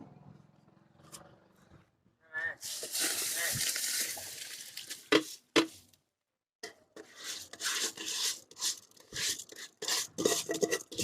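Rice going into a boiling pot for Salem-style beef biryani, heard as a loud sustained rush and bubbling churn with scraping stir strokes close by, a brief pause, then more uneven stirring.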